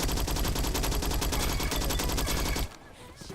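A Skorpion fires in the Roblox game Bad Business, a loud, rapid full-auto burst of evenly spaced shots lasting over two seconds, then cutting off abruptly to near quiet.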